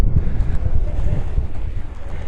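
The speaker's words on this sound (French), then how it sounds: "On a du vent." Strong wind buffets the microphone at a beach in Port de la Selva on the Costa Brava, giving loud, gusty low rumbles that pulse irregularly throughout with no talk.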